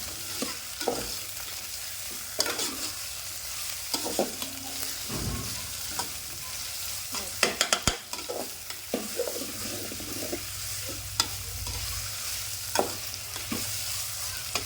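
Onions and green chillies fry in a pan for a village-style spinach pulao, a steady close sizzle broken by repeated scraping stirs and clacks of the spatula, with no voices.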